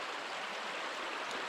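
A small woodland creek flows with a steady, soft rushing and babbling hiss, constant and close, with no voices over it.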